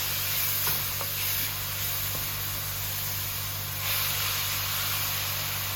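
Frozen minced meat fries in a pot with a steady, even sizzle and hiss, close and constant, broken by a few faint clicks.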